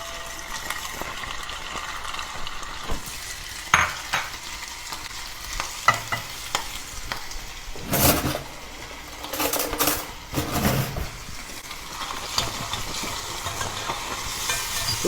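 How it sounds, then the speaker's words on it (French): Maple-smoked bacon fries in olive oil, with a steady crackling sizzle broken by louder bursts of stirring and scraping in the pan. "On va cuire le bacon fumé à l'érable."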